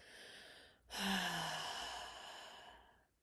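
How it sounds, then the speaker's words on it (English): A slow exhale out through the mouth, close and soft, rising into a breathy rush and then gradually fading, with a brief voiced hum at its start. "And then a nice slow exhale out your mouth."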